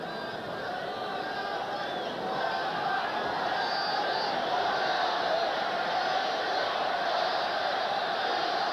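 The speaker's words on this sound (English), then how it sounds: "You can hear the crowd screaming for Nevitt." A basketball arena crowd at a 1985 Lakers–Suns playoff game roars steadily for a player, a dense, sustained wall of cheering and shouting that swells slightly partway through and never lets up.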